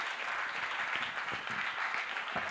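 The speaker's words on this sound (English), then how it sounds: "Let us give her another very, very good hand clap." An audience at a nursing and midwifery quiz event at Bishop Stuart University claps, producing sustained applause that is moderately loud and slightly distant, with scattered sharper individual claps within the steady patter.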